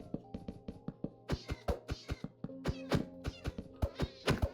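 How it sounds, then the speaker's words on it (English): A cat in Minecraft meows over and over, a rapid series of short, close, clear mews with brief gaps between them. "You should be a black cat, right? Don't black cats spawn in these?"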